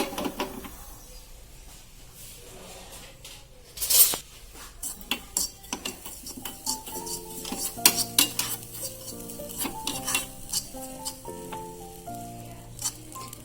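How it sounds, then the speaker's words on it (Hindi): Sajji khar (papad khar) heated in a pan and stirred, metal spoon clinking and scraping against the pan over a faint sizzle, with background music and no talk. "इसको ऐसे हिलाते रहना है।"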